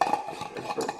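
A metal part of a Bialetti Moka Induction coffee pot is set in place with a short burst of soft clinks and scrapes, close and quiet.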